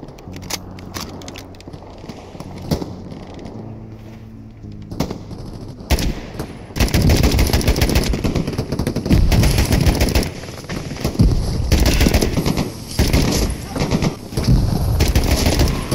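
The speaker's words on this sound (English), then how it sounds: "Getting shot from the right side here." Video game gunfire, sparse at first and then dense bursts of rapid automatic shots, loud and close, with heavy crackling volleys through the later half and faint speech underneath.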